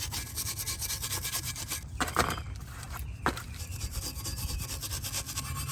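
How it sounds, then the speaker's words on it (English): Steady, continuous abrasive scrubbing of a stiff steel wire brush against a BMW brake caliper bracket, with two brief sharper scrapes in the middle. "We're going to clean this bracket where the pad's going to sit."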